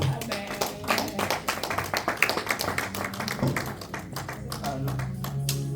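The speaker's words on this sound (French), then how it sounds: "Nous acclamons très fort pour Jésus-Christ." A church congregation claps for Jesus Christ at a service, producing quick, rapid hand claps that mix with loud voices and calls.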